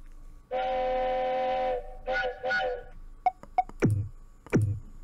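A cartoon train whistle as the front of a train comes into view: a long steady steam-whistle blast, then two shorter toots, followed by quick pops and puffing chuffs, loud and close.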